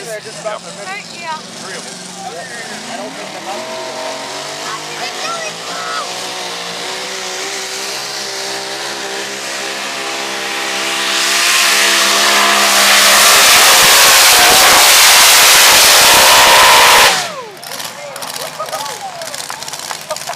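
A semi truck tractor roars at the NTPA North Iowa Nationals truck pull in Rockwell, engine note climbing to a loud, sustained full-throttle bellow before cutting off abruptly, with an announcer's voice over the earlier stretch.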